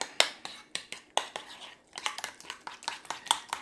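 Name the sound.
mixing hamburger ingredients with mustard and ketchup in a bowl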